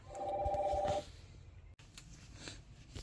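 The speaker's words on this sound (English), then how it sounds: "Alright, phone call." A telephone rings inside a 1982 Avion 34-foot triple axle travel trailer under restoration, a steady electronic warble for about a second, then quiet room noise.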